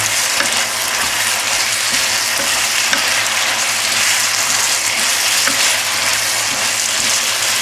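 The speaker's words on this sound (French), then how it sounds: "vous allez bien sûr ajouter la viande de bœuf, hop, de tout à l'heure, que vous allez maintenant bien mélanger." Beef stir-fried Sichuan style sizzles steadily in a hot pan, a loud, continuous frying hiss with faint scraping from stirring and no talking.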